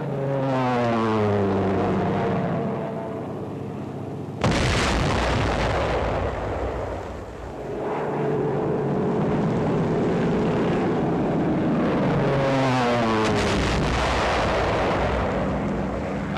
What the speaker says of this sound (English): Dive bombers of the 10th and 14th American Air Forces attack heavily fortified enemy positions.